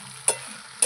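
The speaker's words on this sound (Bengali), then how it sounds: "ওলকচুগুলো দিয়ে ভালো করে নেড়ে চেড়ে নিচ্ছি, মশলার সঙ্গে মিশিয়ে নেব।" Elephant foot yam and meat with spices being stirred in a hot pan, a steady sizzle broken by two sharp scrapes of the spoon against the pan.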